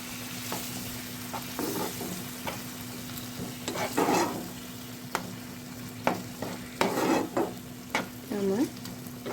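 Chicken gravy with soy sauce and a cup of milk being stirred in a pan, with soft simmering sizzle under scattered spoon scrapes and clinks that come in short irregular bursts.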